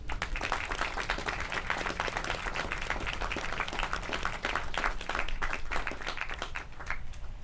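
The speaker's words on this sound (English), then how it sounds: "Let's give them a big round of applause." An audience at a military police battalion patching ceremony breaks into steady, sustained applause, with many hands clapping together at a moderate distance and no voices over it.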